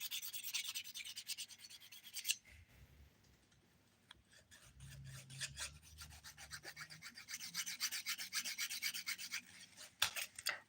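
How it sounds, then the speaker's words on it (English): A fingernail is filed around the cuticle and along the top and bottom of the nail, giving soft, close raspy strokes in uneven bursts, quiet overall with short pauses between passes. "So filing here, right? I'm going just around the cuticle area and the top of the nail or the bottom of the nail"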